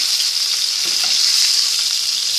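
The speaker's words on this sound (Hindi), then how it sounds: "ये आप देख सकते हैं एक साइड से बहुत अच्छे से फ्राई हो गए हैं।" Beef kofta frying in oil in a pan, a constant bright hiss of sizzling close up with small popping bursts, no talking.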